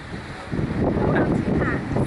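Strong wind buffets the microphone in loud gusts on the Portuguese coast, with a voice partly audible beneath the roar.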